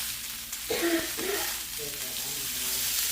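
Butter sizzles with olive oil in a hot pan for a picanha steak, a close, steady frying crackle with a brief burst of stirring or shifting near the start.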